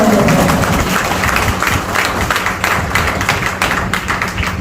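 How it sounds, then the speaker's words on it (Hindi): Loud, dense applause from an audience during a corporate speech in Chhattisgarh, a sustained wash of many hands clapping with occasional heavier thumps, close and continuous. "जोरदार जबरदस्त तालियां होनी चाहिए"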